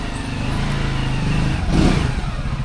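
A motorcycle engine runs nearby, and its rough throaty drone swells into a brief rev about two-thirds of the way through. No one speaks.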